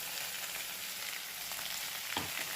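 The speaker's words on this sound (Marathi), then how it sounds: "आता या वाटणामधले बऱ्यापैकी आपण सगळे जिन्नस छान खरपूस असे भाजून घेतलेले आहेत" Ground spice paste with ginger and garlic fries steadily in oil tempered with cumin for a Sankranti mixed vegetable dish, giving a continuous close hiss and sizzle with a few louder crackles near the end.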